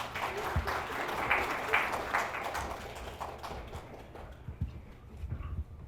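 Applause from an audience at a school concert for March 3rd, following a poem recitation announcement; broad, steady clapping with scattered louder claps continuing throughout, moderately distant.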